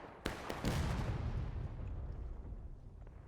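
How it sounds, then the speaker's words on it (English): Close artillery fire in a Civil War battle game with 150 players: a sharp nearby blast followed by a second heavy boom, then a long rumbling roll that slowly fades out. "Artillery very close."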